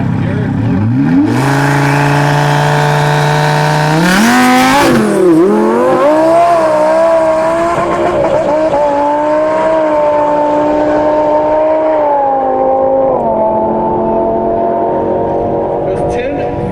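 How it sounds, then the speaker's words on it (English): An 800-horsepower twin-turbo Lamborghini makes a drag-racing pass, its engine climbing loud and close through a long rising run of revs with brief dips at the gear changes, then holding a steady high roar to the end. "800 horsepower Lamborghini driven by Derrick Lewis."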